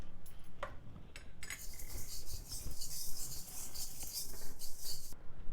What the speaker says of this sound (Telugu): ఇలా ఆపకుండా కలుపుతూ వేయించుకోవాలి.